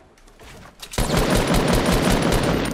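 A grey assault rifle firing in Fortnite Battle Royale: after a second of quieter game sound, a loud, sustained full-auto burst of rapid, close shots runs to the end, with no voices.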